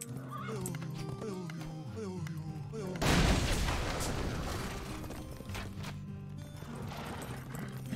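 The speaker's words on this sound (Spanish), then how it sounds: "Acá ya tengo algunos jinetes a caballo." Mounted cavalry horses in the Age of Empires strategy game neigh and whinny over clip-clopping hooves, set against game music, with a louder burst of battle noise partway through.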